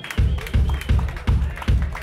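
Rhythmic, heavy claps in a regular beat, about four to five strong pulses, loud and close, from a concert audience clapping for a band.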